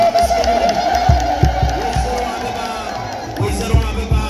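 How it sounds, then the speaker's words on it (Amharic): A festive crowd at a Palm Sunday (Hosanna) celebration in Hosaena town lets out loud, sustained ululation and cheering, with scattered claps and thumps over a dense, continuous wall of voices. "እልል ብላችሁ አመስግኑ"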